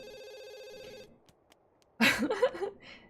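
A telephone rings in The Sims 2 game, a bright electronic trill repeating for about a second, followed by a short burst of garbled game voice chatter.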